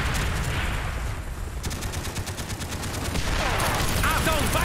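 Enemy gunfire in the Call of Duty Black Ops game: rapid automatic bursts rattle over dense battle noise with helicopters, loud and continuous, while a voice talks underneath.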